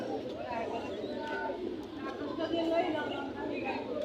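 Pigeons coo softly and steadily at the Hasnabad pigeon market in Bangladesh, their calls blending into the close chatter of traders and buyers talking throughout.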